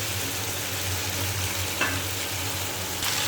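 Masala spice paste fries in oil with a steady, close sizzle, while a utensil stirs and scrapes through it once partway through.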